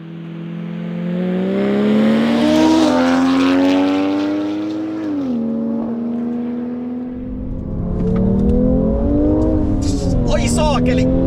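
A tuned Volvo V60 T6 and a Stage 1 Mercedes-Benz C43 AMG accelerate hard in a drag race, with loud engine notes climbing steadily in pitch, a brief dip at a gear change, then rising again under strong road and wind roar.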